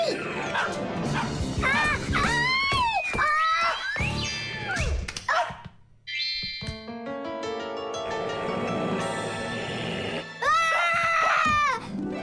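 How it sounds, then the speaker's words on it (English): Cartoon rabbits bark loudly in a children's animated show, yipping and yelping in rapid bursts with whimpers, mixed with music and cartoon effects. "tell your rabbits that they can stop barking so loudly"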